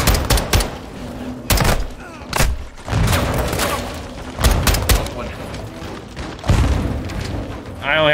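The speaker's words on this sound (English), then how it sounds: "They're launching grenades!" Grenade blasts in Call of Duty: Modern Warfare 2 at Al Mazrah, a run of loud, sharp booms and gunfire bursts repeating every second or so, with voices in between.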